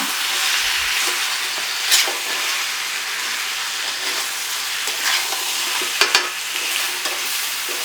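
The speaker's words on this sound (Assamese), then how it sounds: "গোটেইখিনি অলপ ভালকৈ ভাজি লওঁ।" Mutton frying together with bottle gourd in a pan, a steady close sizzle with occasional sharper crackles and stirring scrapes, no voices.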